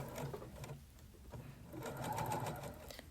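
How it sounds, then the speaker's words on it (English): A sewing machine runs steadily, stitching the sleeve seam of a self-drafted pink coat, with a continuous close mechanical whir that briefly eases off midway before picking up again. "I sew the seam of the sleeve now so I can ease it in."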